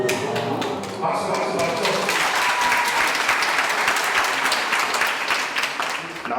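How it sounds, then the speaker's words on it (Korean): A crowd of event participants on a peace walk near the DMZ applauds, dense steady clapping close by that carries on throughout and fades slightly at the end. "박수."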